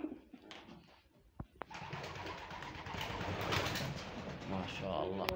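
Kingat pigeons on a farm, low soft cooing that rises into continuous murmuring close by, with a few sharp knocks early on and a voice talking over it.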